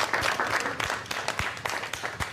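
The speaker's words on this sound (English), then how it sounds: "will you give them a big clap?" An audience claps for two karate black belts being introduced, a fairly light, uneven round of applause with distinct individual claps standing out, heard alone without talk.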